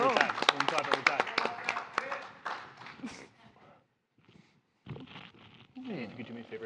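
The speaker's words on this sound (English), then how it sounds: "We're gonna clap every time." A group clapping hands at a convention tabletop game event: a run of sharp, rhythmic claps up front, then the sound thins out and people talk.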